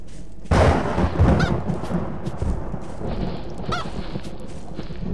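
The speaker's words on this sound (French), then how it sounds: "Ah, des poules, des poules, des poules." Chickens cluck and squawk in the Minecraft video game, with a sudden loud burst followed by scattered bird calls and game noise at close range.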